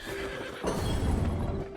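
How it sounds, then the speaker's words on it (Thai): A wild horse whinnies loudly in the open-world video game Where Winds Meet, a long shrill neigh over ambient game sound and faint hoof movement. "นี่คือที่ที่คุณผู้ชมจะได้จับม้าป่ามาใช้งาน"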